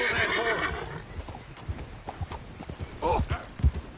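A horse in Red Dead Redemption 2 whinnies loudly at the start and again near the end, with heavy hoofbeats thudding in between and a voice speaking over part of it.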